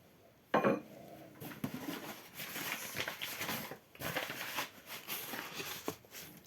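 Metal samovar lid handled while unpacking, giving a sharp clatter near the start and then repeated light clinks, scrapes and rustling of wrapping paper, close by with no talk.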